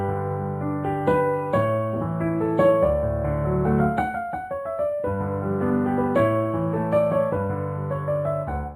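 Piano playing a I-IV-V chord progression in D, sustained block chords moving through the changes with a brief melodic run in the middle, clear and close with no talking.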